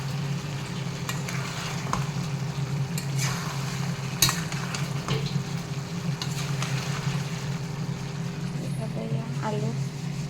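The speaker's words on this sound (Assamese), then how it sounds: "ভাজা হোৱা নাই তথাপিতো অকণমান বিলাহী দি দিওঁ" Chopped tomatoes cook in a pan with a soft, steady sizzle and occasional stirring clicks, set against a constant low hum.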